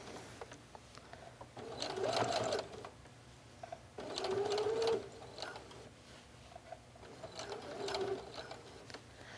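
Sewing machine stitching around a travel bag, three bursts of rapid mechanical whirring separated by pauses, close and moderately quiet, with faint background sounds.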